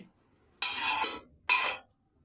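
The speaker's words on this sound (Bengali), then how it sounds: "এই শাকগুলোকে সেদ্ধ করা শাকগুলোকে আমি এটা থালার মধ্যে ঢেলে নিচ্ছি" Boiled bottle gourd greens are poured onto a metal plate in two short hissing, splashing bursts separated by a brief pause, close and moderately loud.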